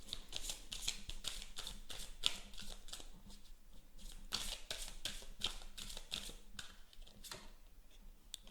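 Tarot cards being shuffled by hand, a rapid run of crisp riffling and flicking bursts at close range, with quiet pauses between.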